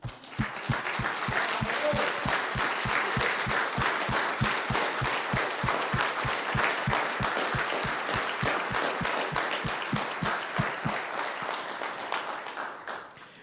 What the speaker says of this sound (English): a round of applause for our Vietnam veterans, please